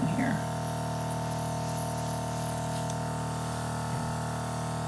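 An airbrush spraying foundation makeup gives a steady, continuous close hiss that runs unbroken throughout, with a faint brief rustle near the start.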